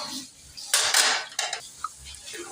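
Chicken pieces go into a karahi with oil for a mooli and chicken curry, with loud metallic clanks and scrapes of the pan and utensils in a few close bursts and no talk.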